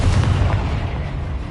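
A Confringo spell blast goes off in the video game Hogwarts Legacy, a short deep booming explosion with a rumbling tail, loud and close, no voices.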